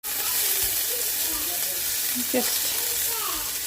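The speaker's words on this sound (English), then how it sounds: "frying off the mince" Minced meat sizzles steadily in a hot frying pan in a home kitchen, a close, constant hiss and crackle throughout, with faint scraping and a brief spoken word over it.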